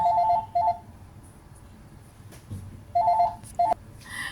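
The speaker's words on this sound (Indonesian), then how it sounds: "ada penggangguan, telepon berbunyi krung" A telephone rings indoors in two short bursts of bright electronic trilling, each a quick double ring, separated by a quiet pause with faint background noise.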